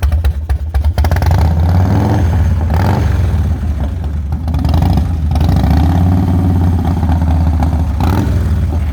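A 1996 Harley-Davidson FXSTS Springer Softail engine runs close by, loud and continuous with a lumpy low rumble and a couple of swelling revs.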